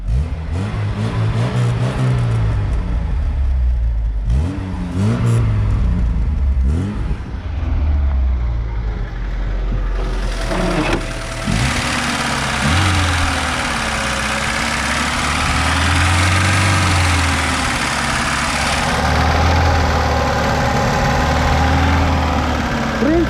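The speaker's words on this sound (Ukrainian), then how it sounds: "Тато, газуй! Ну погазуй, алло!" A VAZ 2101 Zhiguli engine with a poor body revs repeatedly, rising and falling in loud bursts, then settles into a steady rough idle close by, with a voice briefly heard early on.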